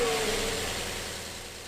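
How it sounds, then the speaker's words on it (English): Porsche Cayenne engine just after new ignition coils and spark plugs, settling into a steady, smooth idle heard close and alone, fairly quiet, with a brief rising tone at the start. "Let's go ahead and see if the car starts up and if everything works normally."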